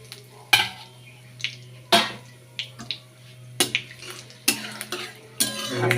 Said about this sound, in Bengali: এবার এই যে বলেছিলাম ফোড়নে একটু জিরে, দুটো শুকনো লঙ্কা আর দুটো তেজপাতা এই তেলে আমি দিয়ে দেবো।